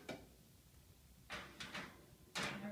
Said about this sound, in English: I'll get the oven door for you